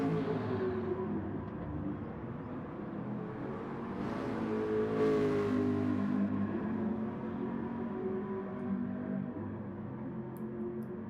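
A Gran Turismo-style race car at Suzuka circuit drones steadily on a hot lap with a light fuel load, its engine note rising and swelling mid-clip, heard at a moderate, even level with no talk.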